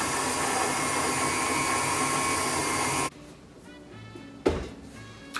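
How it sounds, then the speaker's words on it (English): A stand mixer beating brown sugar for pumpkin chocolate chip cookie dough whirs loudly and steadily on medium-low speed for about three seconds, then stops, followed by a quiet pause and a single solid thunk. "we're gonna stick this right onto a stand mixer and beat it on medium-low speed until everything comes together"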